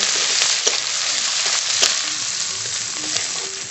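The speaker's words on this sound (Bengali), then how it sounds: "পেঁয়াজটা একটু ভাজা ভাজা করে নেব" Chopped onion frying in mustard oil, a loud, continuous close-up sizzle with a few faint clicks of a spatula against the pan, no speech.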